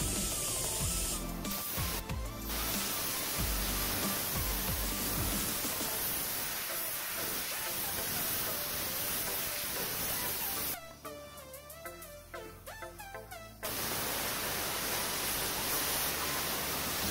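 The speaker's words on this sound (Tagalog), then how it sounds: "Kailangan din natin i-spray na natin ng tubig para malinisan siya bago i-adjust." Water is sprayed to clean the rear brake shoe of a Renault Dokker, a loud, steady rushing hiss that briefly drops and changes character partway through before resuming.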